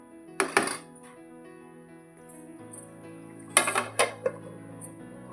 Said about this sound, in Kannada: ಇದ್ರ ಮ್ಯಾಗ ಒಂದು ಮುಚ್ಚಳ ಮುಚ್ಚಿಬಿಡೋಣ ರೀ